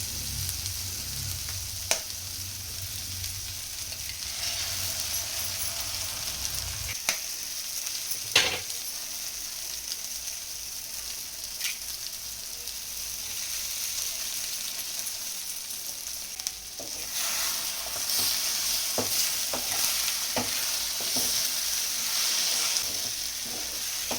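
Eggs crack into fried masala in a pan for anda bhurji, then sizzle and fry steadily while being stirred, with intermittent scraping strokes and sharp clicks from the spoon against the pan. No speech.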